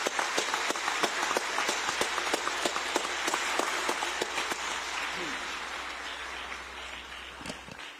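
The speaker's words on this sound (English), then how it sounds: "Let's give them a round of applause again." At a United Nations Habitat Assembly session in Nairobi, an audience applauds a children's music performance, distinct claps ringing out densely at first and then thinning and fading toward the end.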